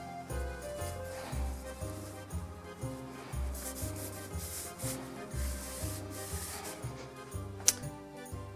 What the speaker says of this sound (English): wipe the blade down with the towel using some acetone